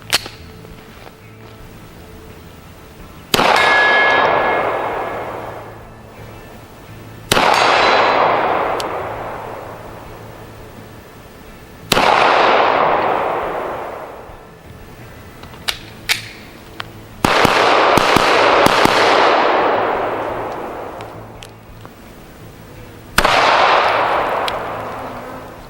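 Pistol shots from an Arsenal Firearms Strike One striking steel targets at 45 yards, about six sharp loud cracks spaced several seconds apart, each followed by a long decaying ring.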